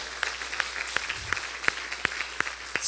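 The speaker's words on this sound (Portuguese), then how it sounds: "Aplaude ele por isso, aplaude." Scattered clapping comes from a congregation during a sermon, with a few distinct, fairly sharp claps spaced irregularly over a quiet background at modest volume.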